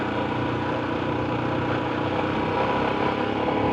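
A 2020 Royal Enfield Himalayan motorcycle engine runs steadily while riding and shifting down to second gear, a loud, close, continuous rumble with wind noise and no voices.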